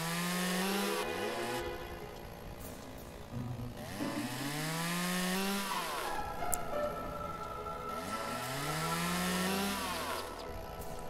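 Chainsaw bucking a felled tree into sections in the logging sim Lumberjack's Dynasty, the engine revving and bogging in repeated rising and falling cuts, loud and steady for the whole stretch with no talk.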